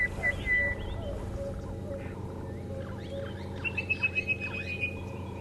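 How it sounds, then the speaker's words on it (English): An unfamiliar bird calls at a dawn safari drive in the African bush, a thin whistled tone followed by a quick run of repeated chirps over a low vehicle hum and faint background rumble. "I just heard a very strange sounding bird."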